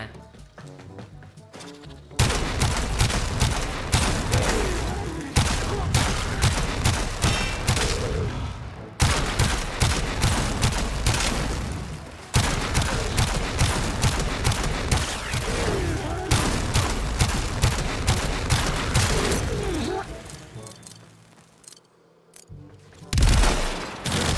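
The Sepulcrum gun in Warframe fires at enemies in dense, rapid bursts of blasts and impacts. Long loud stretches of gunfire are separated by brief pauses.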